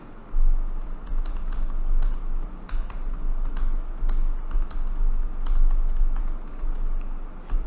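Rapid typing on a computer keyboard, a steady stream of close, crisp key taps with occasional louder strokes over a low background hum.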